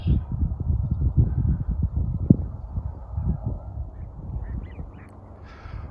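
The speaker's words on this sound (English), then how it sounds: "You can hear there's still American widgeons amongst the ducks too." Ducks, among them American widgeons, call outdoors in a steady low chatter of quacks and honks, with one sharper call standing out near the middle before the flock fades somewhat.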